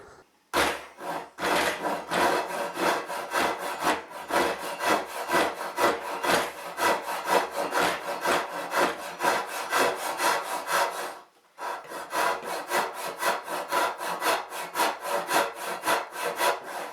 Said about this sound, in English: then just simply cut that out with a handsaw